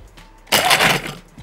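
A blender kicks on to blend kiwi with orange juice, a sudden loud whirring burst lasting under a second before easing off.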